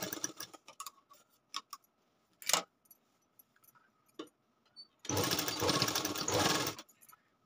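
Sewing machine stitching a blouse lining, first scattered clicks and short ticks, then a loud, close burst of continuous running stitching lasting about two seconds before stopping.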